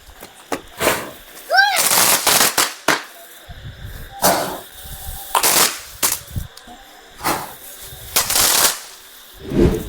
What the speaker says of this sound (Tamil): அடுத்து பார்த்தோம்னா 7 ஷாட் வச்சிடலாங்க வாங்க.